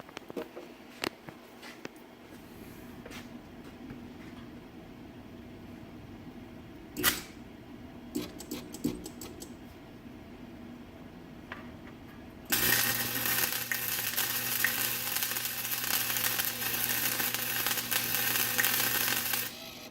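A welder blows a hole in thin muffler metal, shown as a sudden loud, steady crackling hiss that starts partway through after scattered quieter clicks and taps.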